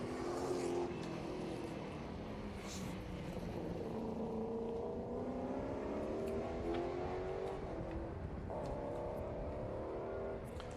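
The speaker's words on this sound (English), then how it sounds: "Yes, it is Bob Bear in the MGB GT V8, just heading through turn 2 now." A 6-litre V8 MGB GT V8 race car with a six-speed Tremec gearbox, heard at a grassroots historic sprint event as it runs through a turn. The engine drones steadily with rising and falling pitch, fairly distant and faint.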